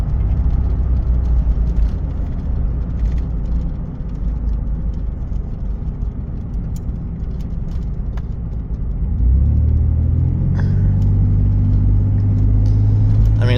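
A car engine treated with Tribotex runs steadily as a loud, continuous low rumble that deepens and strengthens partway through, with no voices over it.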